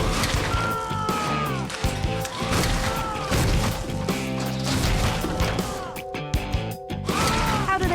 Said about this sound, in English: Whoever picks the wrong answer will be yanked upwards at speed, smashing straight through the roof and into orbit.